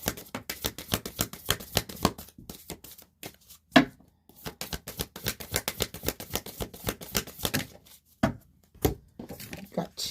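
Oracle cards for a tarot reading are shuffled close by in quick, rhythmic bursts of flicking and riffling, with brief pauses between rounds.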